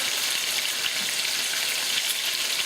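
A pork chop seasoned with adobo and lemon juice sizzles steadily in a frying pan just after being turned, a close, even hiss of frying with no speech.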